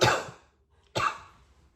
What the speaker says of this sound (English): I need to stop talking. It makes me cough.